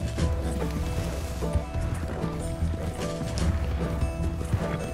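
Horse galloping in Red Dead Redemption 2, a steady clattering rhythm of hooves with creaking tack and mechanical rattles running the whole time, loud and close.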